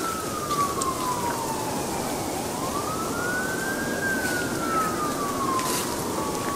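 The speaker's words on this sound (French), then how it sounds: "On entend les sirènes de la police d'ici." A police siren wails in a slow rising and falling sweep, distant but clear over a constant roar of traffic.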